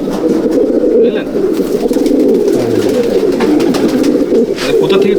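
Champion Andhra breeder's pigeons coo in a low, continuous rolling murmur, close and loud, with a faint rustle of movement throughout.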